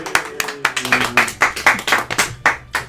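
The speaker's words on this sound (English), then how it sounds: "Can we get a round of applause?" A small group claps for a guest on a podcast show, with distinct, irregular hand claps close to the mic and a faint voice underneath.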